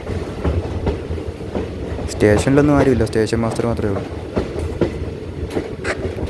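A diesel train on the Kollam to Aryankavu line rolls through a small station with a steady rumble and some rhythmic wheel clatter, while someone speaks over it up close.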